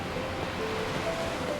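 Ocean waves and wind in NieR Reincarnation as a ship drifts at sea, a steady, even rush of surf and airy wind with a faint tonal line from the game's music.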